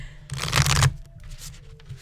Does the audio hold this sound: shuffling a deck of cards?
yes